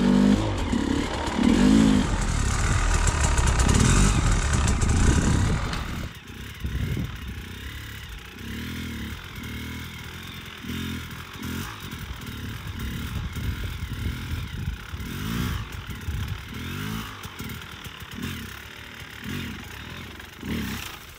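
An enduro motorcycle engine revs loudly at first, then settles into a lower, uneven burble as the rider feathers the clutch and throttle, close and continuous.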